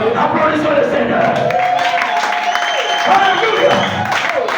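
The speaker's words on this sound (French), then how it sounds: "Applaudissons le Seigneur." A church congregation claps in praise during a service, a loud, continuous wash of applause with some voices mixed in over it.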